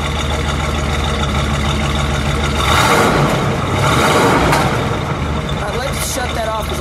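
A 1967 Buick GS 400 Sport Coupe V8 idles with a dense close rumble, then is given a single rev that swells and falls back; a voice talks faintly under the engine.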